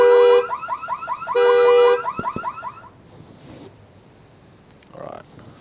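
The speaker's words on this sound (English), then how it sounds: "Well, I activated the car alarm." A car alarm in the firefighting game Flashing Lights whoops and warbles in two loud repeating bursts, then cuts off, leaving a couple of thuds and faint background noise.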